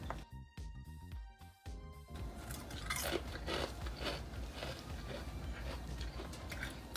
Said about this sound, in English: I know you guys can hear that crunch.